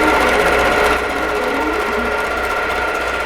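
A quilting sewing machine stitches appliqué with ecru Isacord thread, a loud, close, unbroken rapid mechanical hum that runs steadily throughout and dips slightly after the first second.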